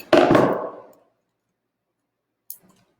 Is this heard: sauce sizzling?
no